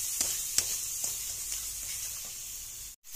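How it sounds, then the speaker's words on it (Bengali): Spice masala with green chillies is fried in oil in a pan for egg curry. A steady hiss of frying carries a few soft stirring taps and cuts out briefly near the end. "সব মশলাগুলো দিয়ে ভালো করে কষাতে হবে যতক্ষণ না এর মধ্যে থেকে তেল না বেরিয়ে আসে"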